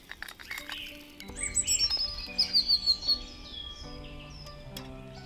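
Small birds at a winter feeder give a quick burst of high chirps and tweets over soft sustained music, then thin out.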